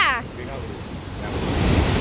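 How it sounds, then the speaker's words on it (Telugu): Steady roar of rushing water at the Nagarjuna Sagar dam, loud and broadband, continuing without a break. "వాటర్ సౌండ్ వినిపిస్తుందా?"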